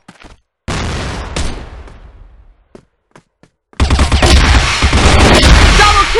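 Grenade blast followed by a barrage of gunfire in the online shooter Crossfire; a loud boom decays over about two seconds, then after a few quiet clicks a dense, sustained burst of rapid gunshots fills the rest.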